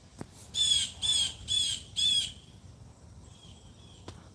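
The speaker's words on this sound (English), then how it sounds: "you can hear a loud bird." A loud bird gives four harsh squawks in an even rhythm, fairly close. A fainter call trails off afterward and a brief knock sounds near the end, with no talking.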